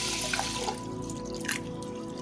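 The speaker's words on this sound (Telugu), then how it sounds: "రెండు సార్లు కందిపప్పుని శుభ్రంగా కడుక్కోవాలి" Toor dal being rinsed with water in a pressure-cooker pot: steady sloshing and trickling with a few brief splashes, close and moderately quiet, with no talking.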